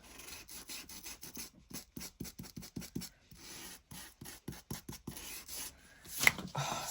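A trimmed paper edge on a tag folio is sanded with quick, rhythmic rasping strokes, close and fairly quiet, with a few short pauses between bursts.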